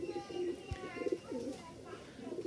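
Rajshahi Giribaz pigeons cooing in soft, repeated low coos, close but quiet, with a faint background hum.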